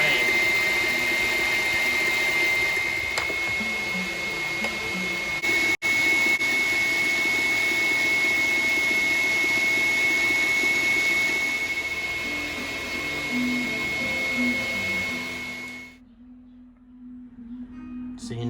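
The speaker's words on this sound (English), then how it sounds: "So now you're whisking the egg whites with the KitchenAid." KitchenAid stand mixer whisking egg whites, a steady whirring motor hum with a thin high whine running continuously, then cutting off near the end, fairly close.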